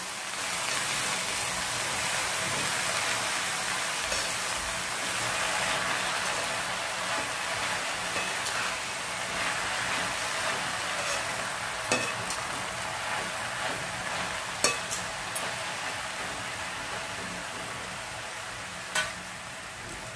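Drumstick-leaf (shevga) bhaji being stirred in a full kadhai: a steady, soft sizzle and rustle runs throughout, broken by a few sharp scraping clicks of the spoon against the pan, with no voices.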